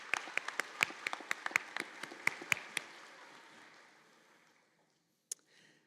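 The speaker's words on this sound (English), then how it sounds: "let's recognize these folks with a little hand of applause" Small scattered clapping from the audience at a nursing school pinning and candle lighting ceremony, a dozen or so distinct claps with a faint wash of applause that fades out, then one isolated clap.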